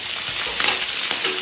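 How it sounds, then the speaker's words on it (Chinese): Fatty pork sizzles in a hot wok in a Northeast Chinese home kitchen, a loud steady crackling hiss with brief stirring scrapes and no talk. "来了，肥肉下锅里"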